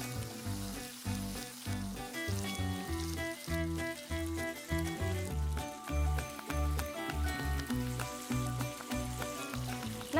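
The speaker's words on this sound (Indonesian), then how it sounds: "Tahu egg roll ini mau aku goreng dulu ya. Dan minyaknya sudah panas nih teman masak." Tofu egg rolls fry in hot oil, with a steady sizzle and bubbling, punctuated by a regular rhythm of bursts and pops throughout, and no talking.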